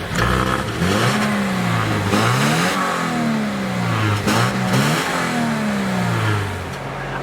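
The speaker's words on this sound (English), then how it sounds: "Let's go ahead and fire this up and hear what the naturally aspirated 2-liter sounds like" The naturally aspirated 2-liter engine of a 2019 Subaru Impreza Sport with a 5-speed manual runs close by, blipping through three or four rising and falling revs over a steady idle.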